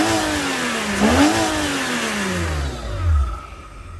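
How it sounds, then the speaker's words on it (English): A BMW E36 engine revs up sharply, its pitch climbing and dipping around the one-second mark, then settles back toward idle with a low rumble and a second bump in throttle near the end, heard close and alone. "I really like the sound of this car, but it just needs to open up a little bit more."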